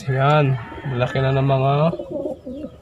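Pure white breeder pigeons in a loft coo in low, warbling phrases close by, while someone talks over them.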